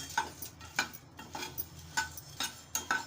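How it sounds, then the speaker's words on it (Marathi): Puffed rice stirred and roasted in a hot kadhai for chivda, with a quiet, regular scraping and rustling of spoon strokes against the pan about twice a second, faint and alone. "आता मी मुरमुरे असे भाजून घेणार आहे एक मिनिट असं गरम कढईत भाजून घ्यायचं"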